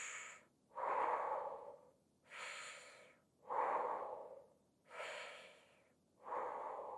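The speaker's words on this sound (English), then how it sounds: "In through the mouth and out through the mouth, 3 breaths." Slow, deliberate breaths drawn in and pushed out through the mouth, about five audible airy strokes alternating with brief pauses, close and fairly quiet.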